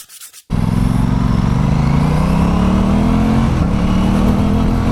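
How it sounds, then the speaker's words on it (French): Aprilia Tuono 660 Factory motorcycle accelerating hard from a sudden start, its loud engine note climbing steadily, with quickshifter gear changes blending into a continuous close-up roar and no one talking. "je passe les vitesses au shifter"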